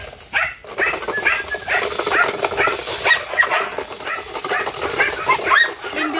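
Belgian Malinois puppy barking in a series of quick, high, yappy barks and yips, close and fairly loud, repeating irregularly over several seconds.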